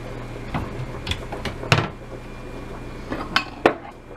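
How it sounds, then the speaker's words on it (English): Ceramic bowls and plates clatter and clink as they are taken out of a kitchen cupboard while soup cooks, a handful of sharp, separate knocks spread over a few seconds, fairly close and with no talking. "In the meantime, we can get our bowls and plates out."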